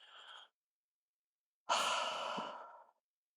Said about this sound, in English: Inhaling through the nose and exhaling fervently through the mouth